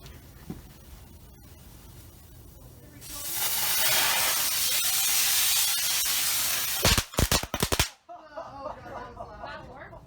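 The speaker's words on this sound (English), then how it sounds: "I dug out these low-thrust fireworks, and then very scientifically duct taped them to the sword." Low-thrust fireworks duct-taped to a sword ignite with a sudden loud rushing hiss that holds for several seconds. A burst of sharp crackling pops follows, then quieter scattered noise and faint voices.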